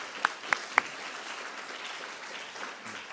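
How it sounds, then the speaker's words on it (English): Moderate applause for a conference chair at a prize ceremony, soft steady clapping with a few loud, close individual claps near the start. "round of applause for the hard work she's done"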